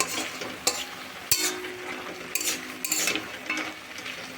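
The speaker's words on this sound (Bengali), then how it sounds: "এইভাবে নাড়াচাড়া করে জলটাকে শুকিয়ে নিয়েছি।" Drumstick (moringa) greens stirred in a pan as they cook down and dry out, with a steady soft sizzle broken by several sharp clinks and scrapes of a utensil against the pan, close and alone.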